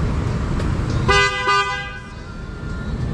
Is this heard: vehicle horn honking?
yes